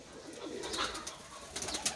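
A pair of black-tailed pigeons coos in a loft, soft rolling calls repeating close by over a steady background hum, with no talk.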